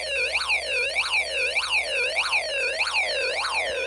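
A Snap Circuits alarm integrated circuit, with a snap wire bridging two of its points, sends out a loud, steady electronic siren that sweeps up and down in rapid, evenly repeating warbles.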